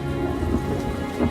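Heavy rain pours down with rumbling thunder on a stormy night on land as convict women brought from England are offloaded; a dense, steady roar with low rolling booms throughout, loud and close.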